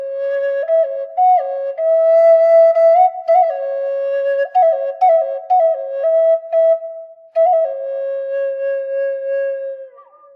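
Native American flute with small finger lifts off the holes, a clear breathy melody of smoothly shifting notes with gentle ornaments, played solo and close for about ten seconds.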